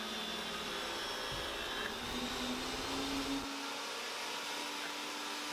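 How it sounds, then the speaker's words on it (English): A table saw with a dado head whines steadily while cutting a groove in Fijian Kauri wood, a loud continuous mechanical drone with a shift in tone as the cut ends. "putting the groove in for the Padauk strips now on the dado head"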